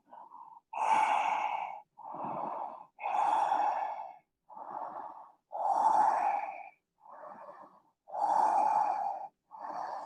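Slow, deep breaths held through a yoga pose, each long inhale and exhale audible and close, repeating steadily with short pauses in between and no talking.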